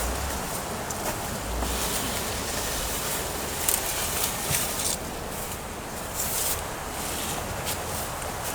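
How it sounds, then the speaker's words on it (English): Gusty wind blows steadily across an outdoor workspace where a table saw outfeed table is being built, a continuous broadband rush with a few stronger gusts and soft microphone buffeting. "it's so windy out here today"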